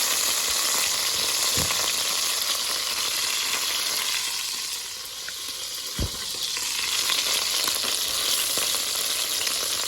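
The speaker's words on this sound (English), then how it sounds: "I'm going to leave these to fry to the color that I want" Dense, continuous crackling sizzle of chicken pieces frying in hot oil for Jamaican stew chicken, close and loud, with a couple of soft knocks; no talking.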